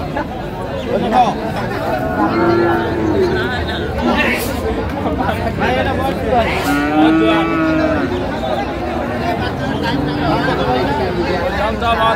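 Cattle at a rural market selling Friesian and cross-breed heifer calves moo several times in long, low calls, with a crowd chattering steadily around them and nearby voices talking.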